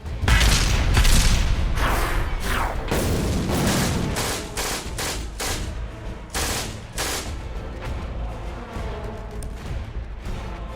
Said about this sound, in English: More artillery shells slam into the Necron lines.